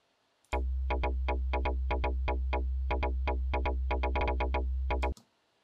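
A bass groove plays in Ableton Live with legato switched on, giving a steady run of about twenty-five evenly spaced plucked notes over a sustained low drone, loud and alone for about four and a half seconds before stopping abruptly.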